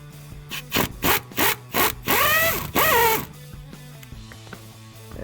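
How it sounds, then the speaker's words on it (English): An impact wrench with extensions and a socket works the bolts on a Jeep Wrangler JK rear driveshaft, firing in five short, even bursts followed by two longer whirring runs, loud and close. "I'm going to start on the rear of the driveline with an impact, some extensions, and a 5/16 millimeter socket"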